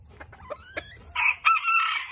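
A Barbu de Watermael bantam rooster with a spiky walnut comb crows once, close and fairly loud, preceded by a few soft clucks.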